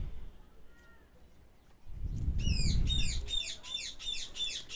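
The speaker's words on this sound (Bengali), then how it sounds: "টিয়া পাখি ডাকতেছে অনেক" Parakeets in a Bangladeshi rooftop garden give a rapid run of sharp, shrill repeated calls that are close and clear. A low rumble and faint voices come just before.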